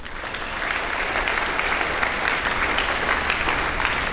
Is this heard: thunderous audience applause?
yes